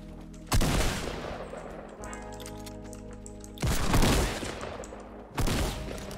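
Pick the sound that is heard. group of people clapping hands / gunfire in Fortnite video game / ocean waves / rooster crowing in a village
gunfire in Fortnite video game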